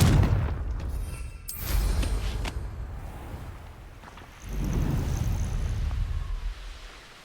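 Confringo fire spell blasts in the Hogwarts Legacy video game, a pair of heavy booming bursts about three seconds apart, each rumbling and fading, with no talking.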